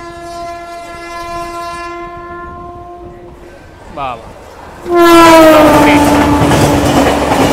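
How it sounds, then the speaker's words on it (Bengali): The Jan Shatabdi Express approaches at high speed behind a long, loud horn blast, then roars past close by in a sudden rush of rumbling wheels and clatter. A voice speaks briefly. "সামনে দ্রুতগতিতে একটা এক্সপ্রেস ট্রেন আসছে"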